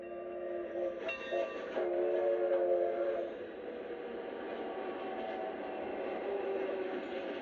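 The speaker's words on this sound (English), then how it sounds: "the locomotive runs through Pasadena on its way to Union Station" A steam locomotive train rolls past through Pasadena with a steady rumble, and tonal whistle-like blasts ring out early on before fading into continuous rail noise.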